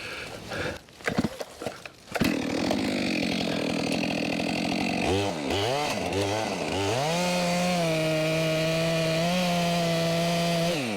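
A chainsaw roars steadily at close range, revving up and down as it bites into a big red oak log, then settles into a sustained high whine.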